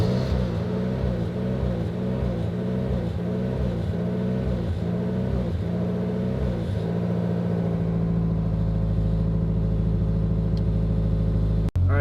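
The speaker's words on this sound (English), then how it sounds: "So now we're going to start the car" A Honda S2000 engine starts and settles into a steady, close idle with a low rumbling drone, alone with no voices, ending in a sharp click.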